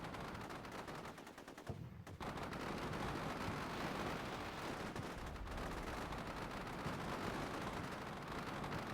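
Sustained gunfire during an ambush in the war game Combat Mission Shock Force 2, dense continuous bursts of automatic fire with a brief lull before resuming, distant-sounding and steady.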